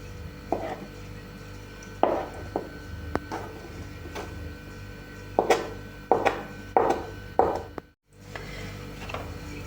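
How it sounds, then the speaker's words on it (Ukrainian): A knife slicing boiled egg whites into thin strips on a cutting board, several crisp chops in uneven bursts, close and clear, with no talking. "І білки будемо нарізати соломкою"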